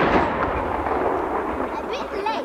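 Outdoor fireworks fire wheels at a German village festival roar as a steady, dense hiss and crackle, with distant crowd voices faintly heard over the continuous burning.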